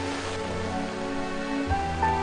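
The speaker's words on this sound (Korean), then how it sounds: "수시로 굵은 비가 내리는 장마철" Heavy rain falling in the monsoon season, a steady, dense wash of drops drumming on surfaces, close and continuous with no talking.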